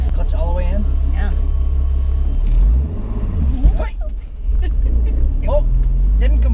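A supercharged Nissan 350Z engine rumbles low and loud inside the car, dipping briefly before picking back up and settling into a steady idle, with people talking over it.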